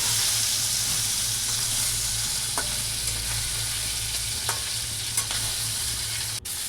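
Tengra fish fry in a pan with a steady hiss and sizzle, while occasional soft scrapes and taps mark the fish being stirred and turned.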